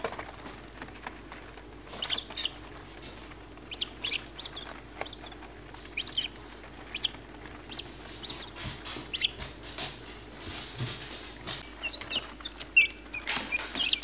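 Baby guinea fowl keets, eleven of them about two days old and kept with a quail, give faint, scattered high peeps and chirps. The calls come in irregular bursts over a quiet indoor background with no talking.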